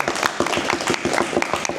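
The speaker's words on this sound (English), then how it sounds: "Give a clap." A live audience claps at a talk: a steady spread of many hands patting together, fairly close and moderately loud, with no voices over it.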